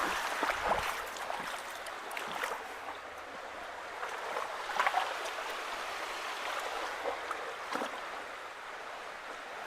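Water pours out of a pipe under a low-water bridge in the woods, a steady close rushing flow with scattered splashes and gurgles, no voices.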